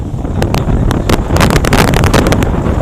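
Strong gusts of wind at a fish and shrimp pond buffet the microphone in uneven bursts, roaring and crackling loudly throughout.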